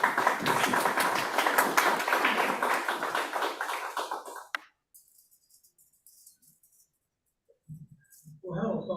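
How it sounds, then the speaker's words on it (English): A small audience applauds to welcome a speaker at a talk on choosing a contractor, a dense patter of claps lasting several seconds and then breaking off, followed by quiet and a few faint sounds. "Give him a round of applause."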